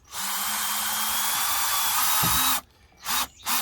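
A power drill drives a screw while a backup camera is mounted, a steady close whirring run of about two and a half seconds followed by two short bursts as the screw is snugged.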